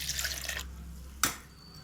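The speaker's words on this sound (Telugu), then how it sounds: "కొద్దిగా వాటర్ వేసేసుకుందామండి." Water splashes from a pour into chutney in a bowl for a short moment. It is followed by quiet and a single sharp splash or clatter.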